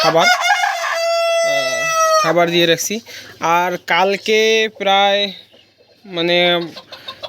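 Fancy hobby chickens on a farm cluck and a rooster crows loudly up close, while someone talks over and between the birds.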